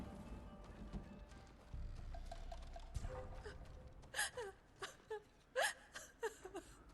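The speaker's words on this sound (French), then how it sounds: "Pourquoi elle pleure?" A woman cries in the video game Ghost of Tsushima, a series of short gasping sobs and whimpers coming in uneven bursts over quiet background ambience, with faint hoof-like clopping earlier.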